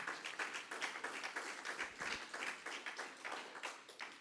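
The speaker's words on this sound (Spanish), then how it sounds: "Un gran aplauso al Señor, amén." A church congregation claps for the Lord in a quick, rhythmic, continuous burst of many hands. The applause is even and moderately loud and comes from a mid-distance.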